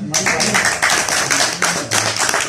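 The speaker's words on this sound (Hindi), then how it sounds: "इन्हां लई बहुत सारियां तालियां" An audience at a poetry recital claps, with bursts of applause rising and falling several times in quick succession.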